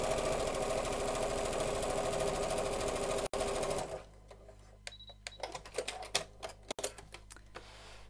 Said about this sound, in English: Then I'm going to sew all the way down.